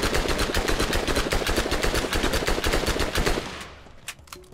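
Rapid automatic gunfire from a fast-reloading, hard-recoiling weapon in the video game Borderlands, a dense steady stream of shots for about three and a half seconds, then a brief reload clatter with a few sparse clicks.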